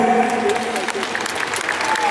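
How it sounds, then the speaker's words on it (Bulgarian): Audience at a bench press competition applauds in a dense, even round of clapping, with a few faint voices mixed in. "Аплодисменти още веднъж за тях"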